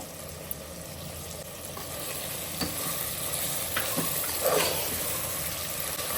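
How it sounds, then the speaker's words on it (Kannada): Chopped tomatoes with salt fry in a pan at home, giving a steady close sizzle with occasional soft stirring scrapes and no talk. "ಇವಾಗ ಟೊಮೆಟೊ ಚೆನ್ನಾಗಿ ಬೇಯುತ್ತಲ್ವಾ ಉಪ್ಪು ಹಾಕಿದ್ಮೇಲೆ"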